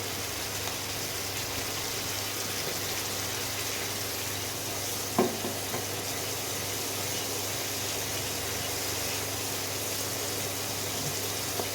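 Faint, steady sizzle of spice masala with Kashmiri chilli powder frying in oil, one small clink partway through, no talking.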